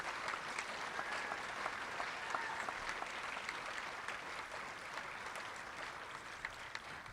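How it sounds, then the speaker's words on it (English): Audience applause at a high school senior honors night, a dense even patter of many hands clapping, fairly faint and distant, continuing steadily with no voices over it. "Let's give one more round of applause for our freshman superintendent's awards."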